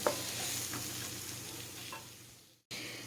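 Kerala beef curry with lime juice being stirred in a hot pan, a steady close sizzle with soft scraping strokes of the spoon, alone and with a brief cut near the end.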